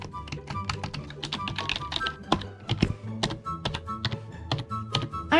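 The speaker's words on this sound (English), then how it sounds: "Please welcome my very clicky keyboard." A very clicky keyboard fidget toy being typed on in rapid, uneven bursts of sharp, close clacks and taps, with no voice over it.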